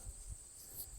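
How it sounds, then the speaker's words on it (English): Grasshoppers and other insects in a field on an old dairy farm keep up a continuous high, shimmering chirr, steady and fairly faint over low wind rumble, with no talking. "I hear bees in the hydrangeas over there, and I hear grasshoppers"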